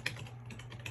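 Keys clatter on a computer keyboard as a command is typed to set up a 1.19 Minecraft server, a quick burst of close, crisp keystrokes heard on its own.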